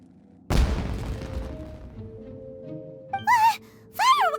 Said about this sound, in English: Fireworks! Huh? Was that an explosion?